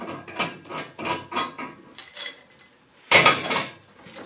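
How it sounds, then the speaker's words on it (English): Chains slip off and shackles come undone on a rig for moving a Galloway, producing a close series of rhythmic metallic clinks and rattles, then a louder clanking burst near the end. "we're going to slip the chains off. Just undo the shackles, that's easier"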